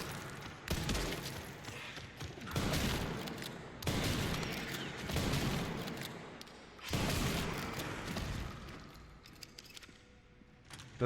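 Sniper rifle gunfire in the video game Resident Evil 9 Requiem: several heavy, loud shots spaced a second or two apart, each trailing into a rumbling decay, with steady background ambience between them.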